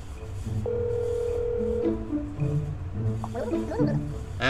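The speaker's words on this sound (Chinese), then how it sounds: "打个电话过去看一下他有没有在家的" Touch-tone dialing followed by a ringing tone and a line pickup inside the horror game That's not my Neighbor, with a long sustained beep, short stepped tones, and a warbling burst at the end, fairly clear and in the foreground.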